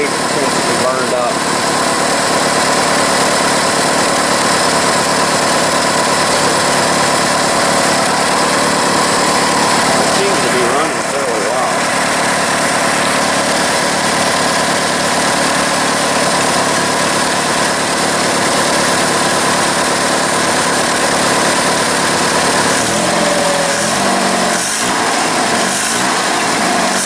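Engine of a 1982 third-generation Chevrolet Camaro fitted with a fuel cell, idling steadily after its first start in 20 years, a loud continuous drone with brief fluctuations throughout.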